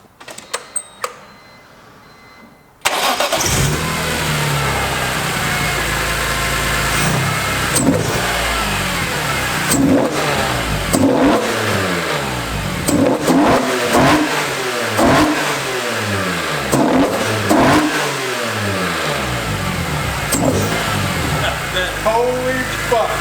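A BMW E46 M3 fitted with velocity stacks cranks and fires up after a few clicks, then settles into a loud, throaty idle broken by repeated sharp revs that rise and fall, with people talking underneath.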